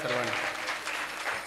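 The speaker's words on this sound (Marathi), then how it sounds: "एकदा विशाल महाराजांसाठी टाळ्या वाजवा सर्वांनी" Audience at a Marathi devotional talk applauding for a performer, a dense burst of clapping from a crowd filling the whole moment, with a voice speaking over it.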